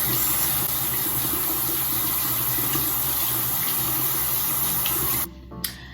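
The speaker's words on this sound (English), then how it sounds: "before we even wash our face, we have to wash our hands." Hands are washed under a running tap, a steady close rush of splashing water that cuts off abruptly near the end, leaving a brief quiet.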